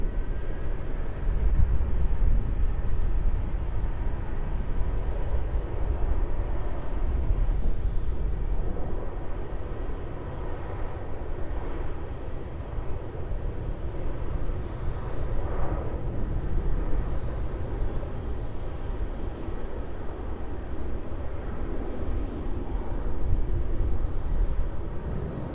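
An airliner departs off runway 34 at Melbourne Airport, a steady broad engine roar that holds evenly for the whole stretch, distant and sustained without any talk.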